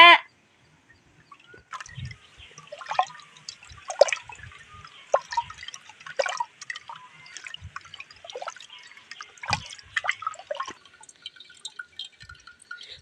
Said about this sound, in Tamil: புளியை நல்லா கரைச்சி எடுத்துக்கலாங்க